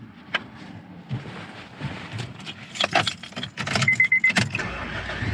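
Keys jingle in the ignition, then a car engine cranks in a short, loud, choppy burst and catches after an electrical no-crank fault has been repaired. It settles into a steady idle at close range.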